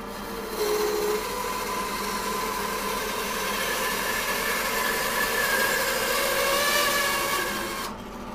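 A saw cuts through a split woodturning blank in a continuous, loud grinding whine that starts abruptly, holds steady for several seconds, then cuts off at the end, with no talking.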